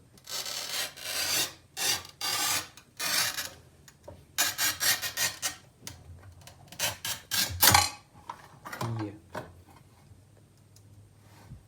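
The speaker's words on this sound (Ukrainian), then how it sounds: "Ось давайте полосочку спробуємо відрізати, чи впорається з цим даний плиткоріз" An INTERTOOL HT-0344 400 mm manual tile cutter scores a narrow strip of tile in a series of close, harsh rasping strokes of varying length, ending with a lower scrape and quieter ticks.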